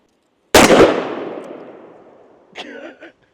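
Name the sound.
Desert Eagle .50 AE pistol gunshots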